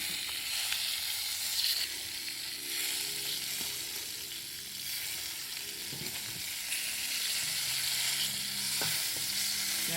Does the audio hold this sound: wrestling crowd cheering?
no